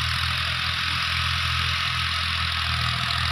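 A tractor pulling a rotavator through wet, heavy field soil, its engine drone steady and loud with a low, rough rumble throughout and no voices.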